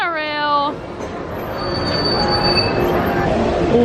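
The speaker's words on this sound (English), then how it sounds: "And there goes the Disneyland monorail." The Disneyland monorail passes by, a train rumble with a brief rising squeal at the start, then a steady, fairly loud rolling roar that builds slightly as it goes by.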